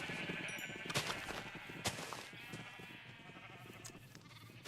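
Sheep bleat in Minecraft, several wavering calls overlapping near and loud at first, then thinning out and fading over a soft background.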